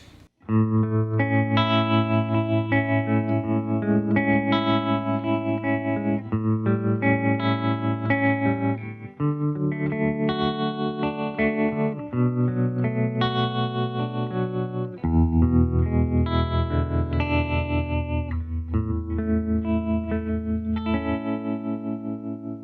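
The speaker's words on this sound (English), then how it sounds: "I switched it over to the tremolo setting." Electric guitar played through a Behringer pedal's pulsing tremolo setting, sustained notes throbbing rapidly in volume, loud and continuous, with no voices.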